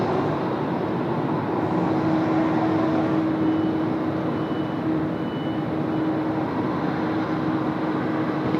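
Vietnam Airlines Boeing 777 rolling for takeoff on runway 34 left at Sydney Airport, a steady loud jet engine roar with a faint whine running underneath, no talk.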